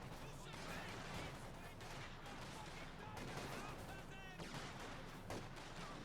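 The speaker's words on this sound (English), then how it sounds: "that's machine gun action routing that with the MG42" Rattling MG42 machine gun fire in the WWII strategy game Company of Heroes 2, a continuous busy clatter of shots mixed with battle noise, fairly faint and without voices.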